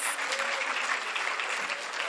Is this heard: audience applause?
yes